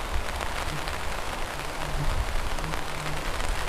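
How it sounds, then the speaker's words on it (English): Rain falling onto a tarp at a campsite in Algonquin Park, a dense continuous patter of drops, steady and fairly loud. "The rain started, so we had to move under the tarp."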